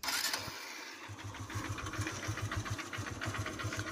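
A motorcycle engine with a beating fault runs at idle nearby, giving a steady rapid low thumping rhythm with mechanical clatter throughout.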